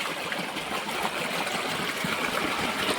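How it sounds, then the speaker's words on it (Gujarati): Irrigation water from two pump motors, one fed from a borewell and one from the farm, flows steadily into a field channel with a continuous rushing trickle and no talk. "બે મોટર ભેગી કરી બતાવું તમને કઈ રીતનું પાણી આજે ચાલુ કર્યું છે"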